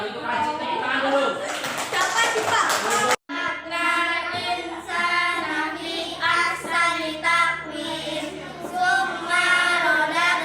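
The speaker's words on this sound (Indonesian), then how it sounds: "kalau gitu kasih tepuk tangan dulu" A classroom of students claps for a group's Quran recitation, a short burst of hand claps at the start before children's voices and talking take over after a brief cut.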